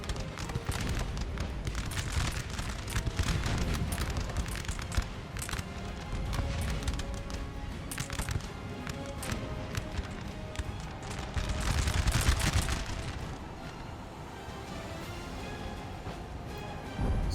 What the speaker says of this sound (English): I did not realize Prussia had 5 artillery cannons pointed at me